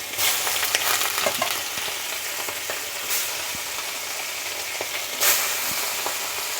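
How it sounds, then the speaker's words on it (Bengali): Chapila fish rubbed with salt and turmeric sizzling in hot oil, giving a steady close crackling hiss with a few brief louder spits and pops, and no voices. "তেলটা গরম হয়ে গেছে এখন আমি নুন হলুদ মাখানো মাছগুলো দিয়ে দিচ্ছি"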